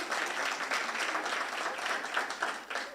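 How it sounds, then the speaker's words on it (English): A crowd claps throughout at a university research chair launch celebration, dense, even applause with no break, moderately close and with no talk over it. "Can we give a round of applause?"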